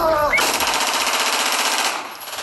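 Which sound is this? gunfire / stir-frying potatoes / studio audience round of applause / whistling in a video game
gunfire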